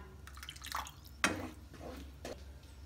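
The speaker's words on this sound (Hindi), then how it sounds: "अभी हम इसमें दे देते हैं थोड़े से पानी" Water poured into a pan of dhaba-style palak paneer (spinach and paneer) while cooking, giving a short splash and a few drips, fairly soft and heard alone.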